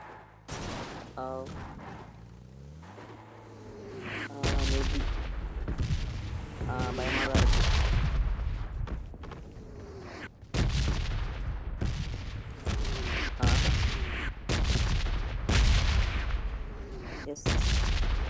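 Random explosions and gunfire burst out in PUBG Mobile, a run of loud booming blasts and shots that repeat irregularly across the scene while players chatter over them.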